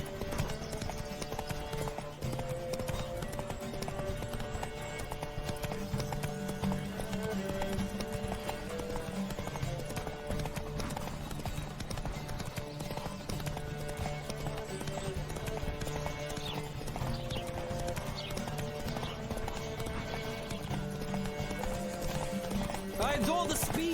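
Horses galloping in The Witcher 3 race, a steady rapid clip-clop of hooves running throughout over a game music bed, with an occasional whinny and voices calling out.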